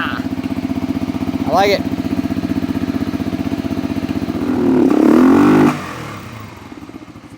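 A KTM or Yamaha motorcycle engine with the choke pulled and the air box and air filter removed fires up and runs at a steady, loud, fast-pulsing idle, then swells briefly as it is revved before settling back; a voice speaks briefly over it.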